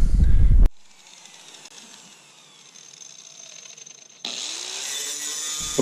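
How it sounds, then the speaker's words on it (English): An angle grinder cuts metal clamped on a trailer, throwing sparks: a high steady whine that drops and rises again as the disc bites, close and loud after a short opening thud. "when working with a grinder and creating sparks, it's always a good idea to have a gas can nearby"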